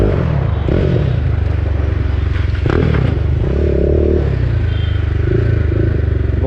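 A BMW G310R motorcycle fitted with an Akrapovic exhaust idles with a low, steady throbbing rumble, up close, joined by occasional mechanical clatter and brief rises in engine pitch.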